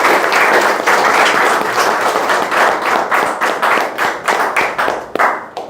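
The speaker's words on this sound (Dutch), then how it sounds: "Mag ik een applaus daarvoor?" Audience applause at a ministerial opening event in Suriname: loud, dense clapping from a crowd, steady and close throughout, with no talking over it.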